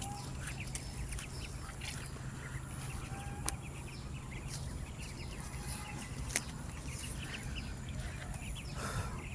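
Three-week-old Chinese ducklings quack and peep steadily in a busy farm flock, with occasional sharp calls standing out over a constant low hum.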